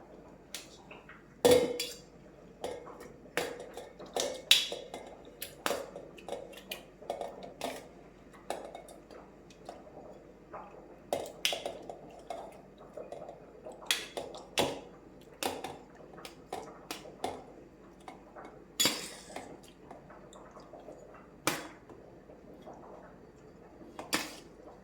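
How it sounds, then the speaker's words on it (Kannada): Boiled, cooled tomatoes being tipped into a steel mixer jar for homemade tomato sauce: a run of sharp metallic clinks, taps and knocks at an uneven pace, close and moderately loud, with no talking. "ನಾನೊಂದು ಮಿಕ್ಸಿ ಜಾರಲ್ಲಿ ಹಾಕ್ಕೊಳ್ತೇನೆ"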